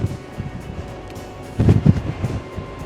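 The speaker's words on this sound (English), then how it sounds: "it is going to be very windy" Gusty wind on a cruise ship deck buffets the microphone in low rumbling bursts, strongest past the midpoint, with a broad outdoor rush underneath.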